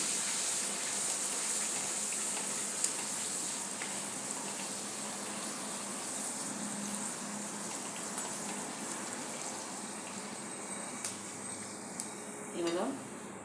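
Spiced Indian puris deep-frying in hot oil, a steady hissing bubble with faint utensil clinks and a brief scrape near the end.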